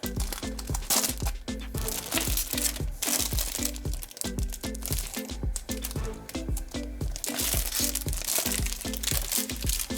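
Plastic film wrapping is torn and peeled off a De Agostini Polonez 1500 model magazine issue, giving dense, close crinkling and crackling with sharp rustles throughout.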